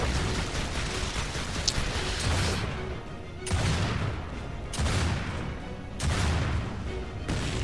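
Weapon fire in Gears of War 2 Horde mode: heavy, booming shots come in dense bursts separated by short gaps, loud and close, with no talking.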